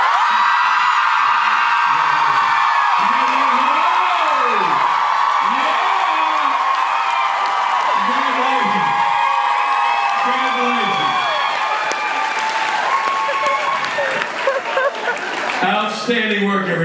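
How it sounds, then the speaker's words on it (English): A large convention crowd roars with cheering, whoops and screams over steady applause as Rob Benedict is introduced. The sound is loud and sustained, with rising and falling shouts swelling above the clapping throughout. "by the sound of your applause and blood-curdling screams"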